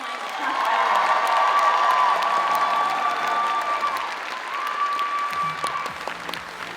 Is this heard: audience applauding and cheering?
yes